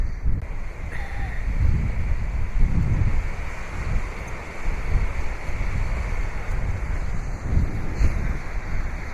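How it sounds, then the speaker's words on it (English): Cold wind blowing in off Lake Erie at an icy shoreline, a steady roaring gust buffeting the microphone with low rumbling surges throughout. "The wind is coming off this lake with the moisture."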